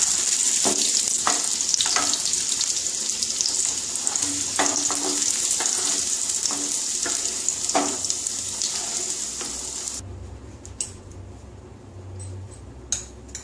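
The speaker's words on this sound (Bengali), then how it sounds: "আলুটা ভাজা হয়ে গেছে," Potatoes fry in oil in a pan, a close, steady sizzle broken by irregular clinks of a utensil stirring, then the sizzle drops away toward the end, leaving scattered sharp taps and scrapes.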